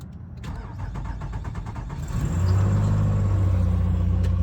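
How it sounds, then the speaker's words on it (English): A car engine cranks with rapid, rhythmic starter pulses, then catches around the midpoint and settles into a steady, loud, close idle, all late at night with no talking. "Watch the crank, listen to the crank."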